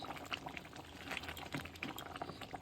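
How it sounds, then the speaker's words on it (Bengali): Chicken curry liquid bubbling in a pot makes a faint, continuous burble of small pops and gurgles, soft and close, with no talk. "কি সুন্দর টকবক করে ফুটছে"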